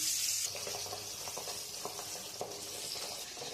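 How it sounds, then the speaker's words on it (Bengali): Pabda fish frying in mustard oil in a wok, a close, continuous crackling sizzle with a few small pops and clicks, no talking. "এবার আমি মাছটা ভেজে নেবো এক এক করে।"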